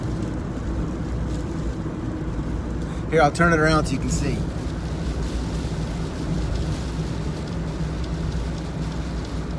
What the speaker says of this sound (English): Yeah, the wind is definitely buffeting my car.